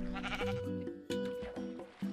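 Several sheep bleats from Minecraft, short wavering synthetic calls repeating in quick succession, close and clear with no talk.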